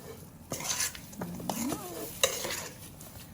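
Thai yum salad with coriander and spring onion being stirred and tossed, with repeated close utensil scrapes and clinks against the bowl over a soft hiss.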